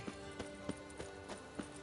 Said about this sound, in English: It's my horse.